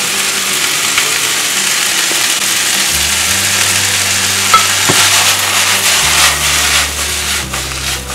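Zucchini and mushrooms stir-fry in a wok for a prawn chow mein, a loud steady sizzle with scraping and stirring strokes throughout, close and with no talking.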